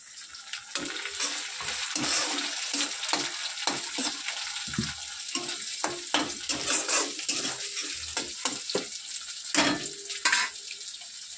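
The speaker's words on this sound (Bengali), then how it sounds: "পেঁয়াজটা ভাজা ভাজা হচ্ছে, এবারে কেটে রাখা টমেটোটা দিয়ে দিচ্ছে।" Onion fries in a pan at home as a spatula stirs it, giving a soft sizzle broken by repeated scraping and metallic clinks of utensil against pan. The taps are uneven and close, and no one speaks.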